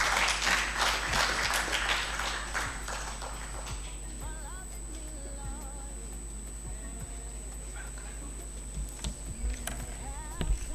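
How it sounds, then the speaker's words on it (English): Audience clapping at a demographic seminar as a speaker walks to the podium, strongest at the start and then thinning out into a quieter room. "Can we give her an applause as she steps to the podium?"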